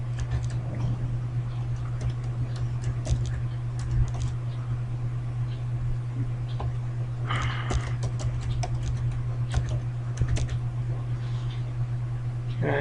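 Someone types on a computer keyboard while setting up a Windows Vista machine on a domain, a run of quick, light key clicks over a steady low electrical hum, with a few louder clusters and no talk.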